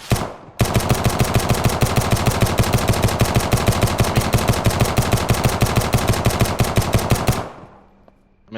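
Gunfire from a pistol in the zombie survival game SurrounDead rings out in a rapid, evenly spaced string of loud shots lasting about seven seconds, then stops abruptly into near silence.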